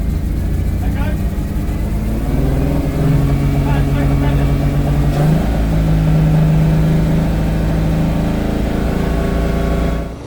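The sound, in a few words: car engine running on five cylinders after fresh fuel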